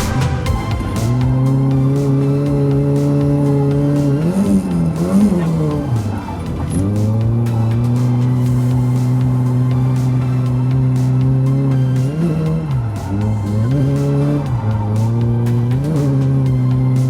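A Nissan S14 street-project drift car does handbrake entries at Slide Factory Grange on a cold morning, its engine droning loud and steady with revving swells and dips as the tires squeal through each slide.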